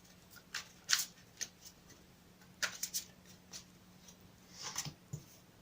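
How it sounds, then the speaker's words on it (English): A deck of cards is shuffled in several short bursts of crisp riffling and flicking, close by in a quiet room. "I'll shuffle them again for you on camera."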